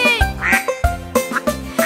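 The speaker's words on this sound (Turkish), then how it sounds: "Aa, bakın, bu bir ördek." A duck quacks loudly and close in a cartoon-style children's farm song, about five sharp nasal quacks in an uneven rhythm with no talking.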